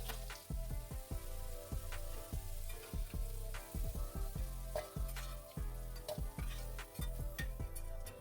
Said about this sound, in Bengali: অল্প লাল লাল করে ভেজে আমি আলুটাকে তুলে নেব